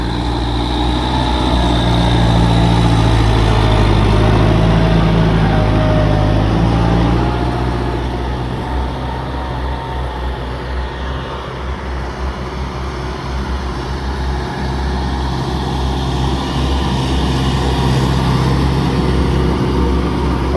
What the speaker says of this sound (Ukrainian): мучимо трактори, оремо